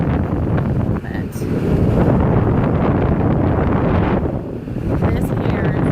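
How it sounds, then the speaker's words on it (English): Strong wind at Galveston beach buffets the microphone in a steady loud roar with gusty surges, surf faintly beneath. "There's always a breeze here in Galveston, but it is just downright windy today."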